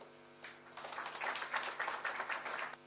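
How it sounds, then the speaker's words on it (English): Applause breaks out from a gathered audience during a photo being taken at a live event. Many hands clap together in a dense burst of about two seconds before stopping. "We clap for them as they take the photo."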